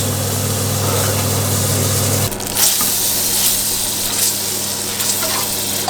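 Butter frying in a hot pan as the start of garlic butter for snails: a steady, dense sizzle fills the whole stretch, easing slightly after a couple of seconds, with no talking.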